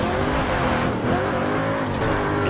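A race car engine roars at sustained high revs with tires squealing through a corner in the Burnout Paradise racing game on PC, loud and continuous with no talking.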